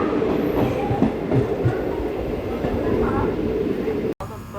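The Narsapur–Nagarsol SF Express passenger train runs on rails toward Kazipet Junction, heard from on board as a steady loud rolling rumble with faint wheel clatter and a brief dropout near the end.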